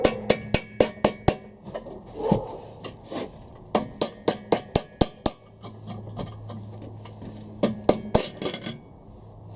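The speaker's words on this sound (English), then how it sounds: "This is just a rubber hammer, this isn't a metal hammer." A rubber hammer whacks parts of a Honda Civic B18C4 engine during a crankshaft install: a long run of sharp, close knocks, first fast and evenly spaced, then slower with pauses, ringing over a low hum.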